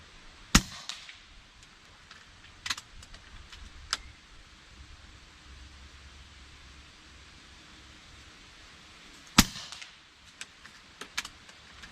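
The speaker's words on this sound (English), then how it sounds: "So we're going to shoot us a couple groups here, 55 yards and 65 yards." Rifle shots from a rifle topped with a Texas Precision Optics Sniper VT 5.9-39x56mm scope at 55 and 65 yards outdoors: sharp, loud cracks spaced seconds apart, two big reports near 0.5 and 9.4 seconds with smaller pops between over quiet background.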